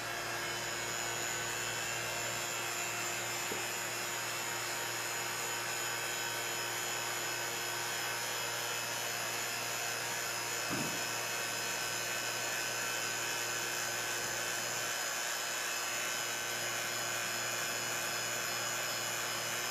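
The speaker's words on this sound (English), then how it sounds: "Then we're gonna cover it with the vacuum chamber and then turn it on and see what happens." A vacuum chamber pump runs over a beaker of water, giving a steady, even mechanical drone with a constant low hum beneath it. The sound is moderately quiet and unbroken, and no voices are heard.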